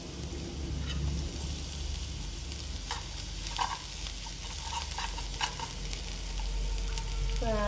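Minced lemongrass sizzles in a hot oiled pan while it is stirred. A steady frying hiss runs throughout, with a few soft scraping and clicking touches, and no voices are heard.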